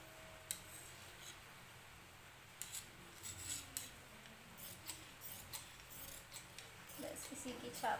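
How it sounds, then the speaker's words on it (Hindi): Fabric scissors cut through blouse lining cloth in faint, scattered snips, growing busier toward the end against a quiet room background. "अब हम इसको काट लेंगे।"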